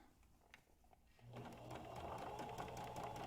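A sewing machine stitches a fabric face mask, starting up after a quiet moment and running in a steady, close, continuous whir with a mechanical hum to the end.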